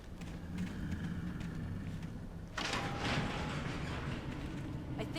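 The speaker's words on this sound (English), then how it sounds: "There's a button over there that opens the door." A heavy door opening in the video game Alan Wake, a sudden mechanical slide and rumble starting midway over a constant low ambient hum.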